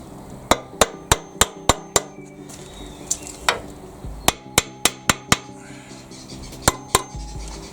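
A part is hammered onto a Rover V8 engine during a carburettor conversion, sharp metallic strikes landing in quick rhythmic runs of about six blows with short pauses, close and loud.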